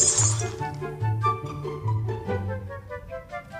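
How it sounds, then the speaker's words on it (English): Glass blocks shatter in the Minecraft video game, several clinking, breaking crashes in a quick repeating rhythm, fairly loud and close with no talking over them. "Break the glass."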